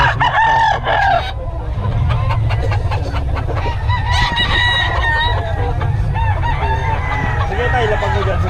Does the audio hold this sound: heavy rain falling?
no